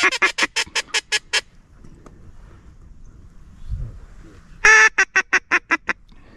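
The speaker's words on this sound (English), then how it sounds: "they followed the freaking wood ducks" Wood ducks calling in flight over a Louisiana public-land marsh during a teal hunt: two close bursts of rapid, squealing calls separated by a quiet gap with faint low rustling, no talk.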